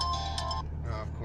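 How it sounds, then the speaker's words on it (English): A mobile phone ringtone plays inside a moving car, a short bright melodic tone over steady engine and road rumble. "that's my phone ringing"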